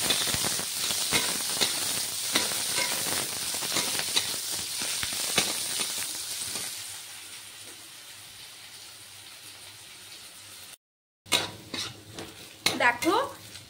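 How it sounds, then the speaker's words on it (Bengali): Finely chopped onion frying in oil for a fish-head and bottle gourd curry, a hissing sizzle under clinks of a utensil against the pan, fading quieter midway before a brief gap and a few sharper clatters. "পেঁয়াজটাকে এখন ভালো করে ভেজে নেব।"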